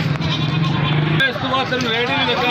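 Goats bleat repeatedly at a busy livestock market, one loud nearby call followed by more wavering bleats, with crowd chatter underneath.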